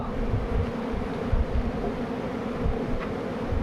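Italian honey bees buzzing in front of the hive on an orientation flight, a steady low droning hum from many insects held close to the microphone, with no talk over it.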